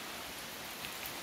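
Steady rain falls across a tea garden, a dense, even hiss of drops on leaves and ground with no voices, holding at a constant moderate level throughout.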